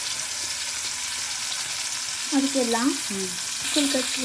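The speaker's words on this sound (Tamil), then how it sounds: "இப்போ பாவக்காயை நல்லா வந்து வதக்கிடணும்" Bitter gourd sautéed in hot oil with a little turmeric and chilli powder gives a steady close sizzle, with a few short tonal scrapes of stirring near the middle and end.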